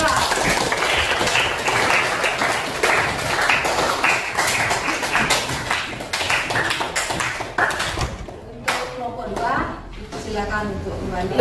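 Classroom applause for a student group, a dense burst of many hands clapping quickly and loudly, then tapering off as a teacher starts speaking.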